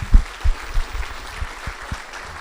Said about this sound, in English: if we can give a round of applause to all of those sponsors